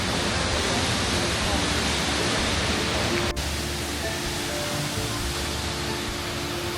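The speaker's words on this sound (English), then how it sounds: "This waterfall is so cool." Waterfall at Silver Falls State Park, Oregon, on a rainy day, a steady broadband roar of falling water filling the whole clip at close range, loud and unbroken, with a brief dip midway.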